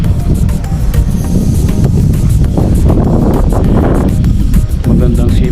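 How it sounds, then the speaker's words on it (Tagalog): Steady wind blows across an open rice field, a continuous low rumbling buffet with gusty swells, loud and close to the microphone. "Magandang simoy ng hangin,"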